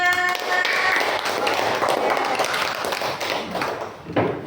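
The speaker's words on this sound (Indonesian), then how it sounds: "Terima kasih para tepuk tangannya" Applause in a classroom for a Muslim religious education lesson, a dense continuous patter of clapping from a group that stays steady and fairly loud before thinning out near the end.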